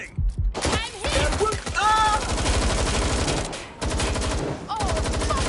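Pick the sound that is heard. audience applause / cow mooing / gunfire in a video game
gunfire in a video game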